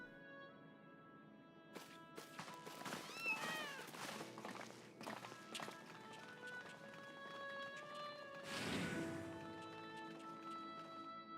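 Cats in the video game Final Fantasy XIV meow several times over a soft layer of game music, with quick running footsteps and a sudden swooshing burst near the end.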